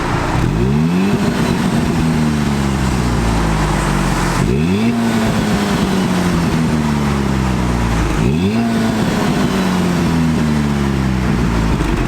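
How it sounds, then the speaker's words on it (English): A Volkswagen Golf R on its stock valved exhaust revs three times, each blip rising sharply then falling back into a steady idle drone, loud and close with no talking. "we're gonna do a sound clip right now to see exactly how the stock exhaust sounds, valved open and closed"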